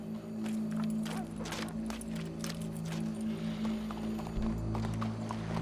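Horse hooves clip-clop at a steady pace in the video game Red Dead Redemption 2, moderately loud beneath sustained low tonal music or ambience, with no talking.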